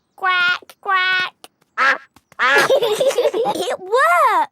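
A cartoon character's voice imitating a duck, giving two clear nasal quacks followed by a few more bursts of playful vocal sounds and laughter, close and loud.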